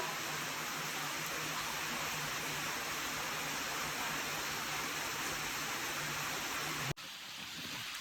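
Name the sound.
waterfall in nature, Chhabimura, Tripura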